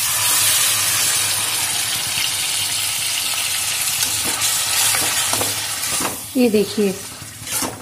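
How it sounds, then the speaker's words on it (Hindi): Boiled carrots fry in two tablespoons of ghee in a kadhai over a low flame for gajar halwa, a steady close hiss and sizzle with a brief voice speaking near the end. "गाजर को लो फ्लेम पर ही हमें भूनना है"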